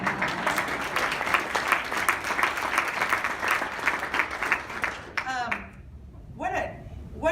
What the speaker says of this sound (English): Let's give ourselves a round of applause for being here